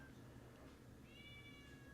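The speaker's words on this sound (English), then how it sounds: "I hear my kitty in the fucking background." A domestic cat meows in the background, one drawn-out, fairly clear meow over a low steady room hum, with no talk.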